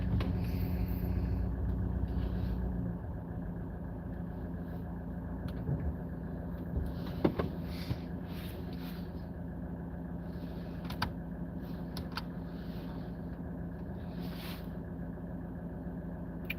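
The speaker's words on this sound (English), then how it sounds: "Good old London traffic." Busy London street traffic, a steady low engine rumble with idling vehicles close by, continuous throughout with a few brief louder passes and no talking.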